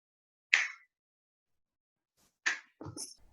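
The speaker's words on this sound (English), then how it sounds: "in a moment, I'm going to snap my fingers" A fingers snap during a calm hypnosis session, a single sharp crisp click alone in silence, followed two seconds later by a second snap and a faint short voice sound.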